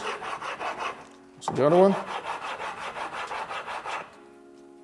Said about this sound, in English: I'm going to start with my fixer and open the structure of the stone.